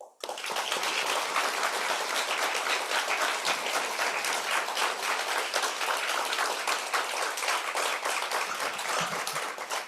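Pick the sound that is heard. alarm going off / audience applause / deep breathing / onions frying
audience applause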